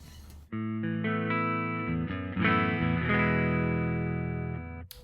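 Electric guitar through a ToneX Plug on an amp preset, playing a few sustained distorted chords and notes with a thick, saturated tone, loud and close, with no talking.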